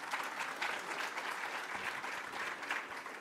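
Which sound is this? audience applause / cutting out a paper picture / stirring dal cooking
audience applause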